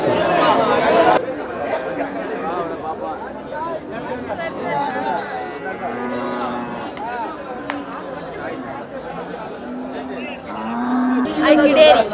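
Cattle mooing at the Melapalayam cattle market, several drawn-out lowing calls near and far amid steady crowd chatter and people talking.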